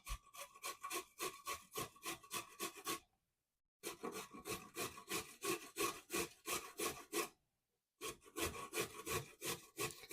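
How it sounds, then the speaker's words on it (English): A single carrot shredded on a box grater, with steady rhythmic rasping strokes in three bursts separated by short pauses, close and fairly loud with no talking. "I'm going to shred it on my box grater."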